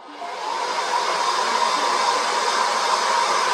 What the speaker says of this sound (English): So now you get a hair dryer.